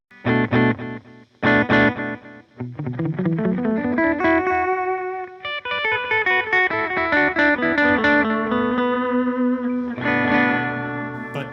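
An electric guitar runs through a Gokko MultiTime delay pedal: a few loud struck chords, then sustained notes and slides that echo and repeat, trailing into a smeared, layered wash before a final chord rings out.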